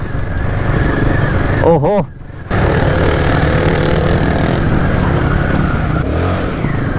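A Royal Enfield Himalayan motorcycle revs its throttle hard while riding off road, a loud, continuous engine roar with a short drop in the middle, under a brief spoken exclamation.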